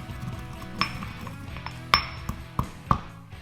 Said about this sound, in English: toss it into a mortar and crack the peppercorns with a pestle